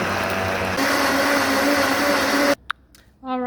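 A kitchen blender whirs steadily as it purées banana peels into a plant fertilizer mix, a loud continuous motor drone that cuts off abruptly near the end, followed by a couple of short clicks and a brief restart.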